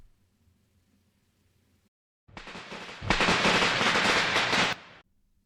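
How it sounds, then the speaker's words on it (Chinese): Firecracker sound effect built for a fuse-burning and explosion scene in Unreal Engine 4: a faint low rumble, a short pause, then a loud dense burst of crackling bangs that rattles for about two seconds and stops abruptly. "这边当时做了一个简单的导火线燃烧和爆炸的效果"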